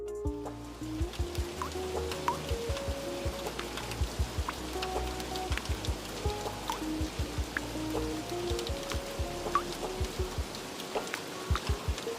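Rain falling at MacRitchie Reservoir Park in Singapore, a dense patter of drops on surfaces with close drips and splashes, steady throughout under a faint tonal background.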